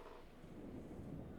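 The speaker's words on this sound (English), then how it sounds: "The thunder can get a little bit loud sometimes." Low, steady rumbling of thunder during a rainstorm, a broad continuous roll that swells slightly toward the end, with rain and wind noise mixed in and no voices.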